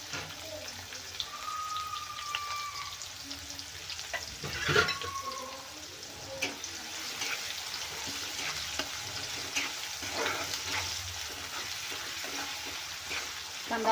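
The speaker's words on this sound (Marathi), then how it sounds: "कांदा आपल्याला तेलामध्ये छान गोल्डन होईपर्यंत फ्राय करून घ्यायचा आहे" Chopped onion and a pinch of asafoetida sizzle steadily in hot oil, a continuous close crackling hiss with scattered pops and a few stirring scrapes throughout.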